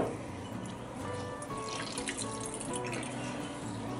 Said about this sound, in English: just put this bread in water, get it wet, and then squeeze it out